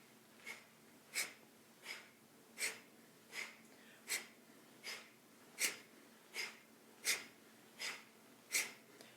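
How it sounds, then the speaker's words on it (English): Audible yoga breathing during a slow beginner flow: about thirteen breathy inhales and exhales follow one another at an even, quick pace, close and soft, with no talking. "Really let that breath be audible."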